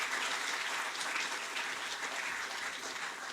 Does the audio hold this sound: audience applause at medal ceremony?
yes